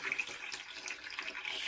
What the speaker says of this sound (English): Slightly add more water to make just a good mixture of the